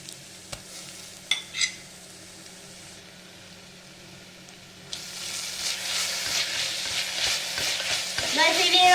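Onions with ginger garlic paste frying in a pan for beef curry, a few spoon clinks first, then a rising close sizzle with scraping stirs that grows louder toward the end.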